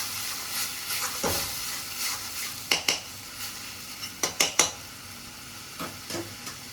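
Onion, green chilli, ginger and garlic paste for chingri malaikari fries in a pan, a soft continuous sizzle broken by a cluster of sharp spoon scrapes and taps against the pan as it is stirred.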